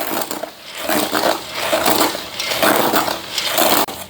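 Continuous scraping and rattling of peanuts being stirred in a pan while dry-roasting, with faint crackles mixed in, close up and steady.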